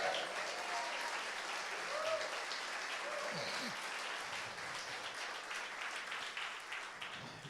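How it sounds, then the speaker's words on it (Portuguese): A church congregation applauds in a steady, dense wash of clapping that holds for the whole stretch and eases slightly toward the end, with a faint voice surfacing briefly. "Dê um aplauso a Jesus."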